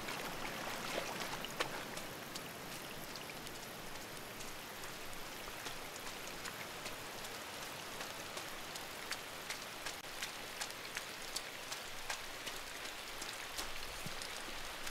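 Steady rain falls in the dark side-scrolling game Inside, a dense continuous hiss of drops pattering on surfaces with scattered sharper drips, holding an even level throughout with no voices.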